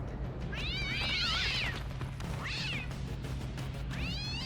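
Several cats meowing in drawn-out, wavering calls in a French-dubbed scene of the Chinese animated series Scissor Seven, three separate cries over a low steady background hum.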